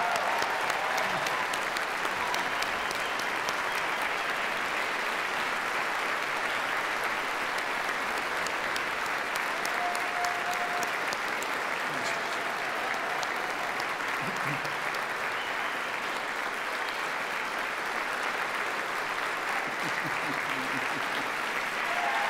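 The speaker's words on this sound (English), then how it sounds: "Thank you for applauding Dave in that way." A church congregation at Grace Presbyterian Church applauds in a sustained, even roar of many hands that carries on for a long stretch, with faint voices murmuring underneath.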